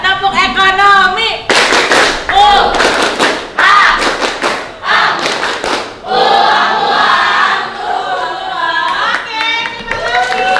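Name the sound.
children doing the rhythmic clap "tepuk ekonomi"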